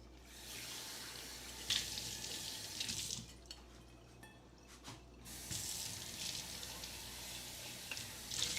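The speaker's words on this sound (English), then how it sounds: "Give this a rinse too." Water runs from a sink tap as a bartending tool is rinsed, a steady broadband rush with brief interruptions and changes in flow as the tool moves under the stream, fairly close.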